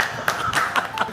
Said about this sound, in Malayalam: നാദറയ്ക്ക് നല്ലൊരു ക്ലാപ്പ് കൊടുക്കണം.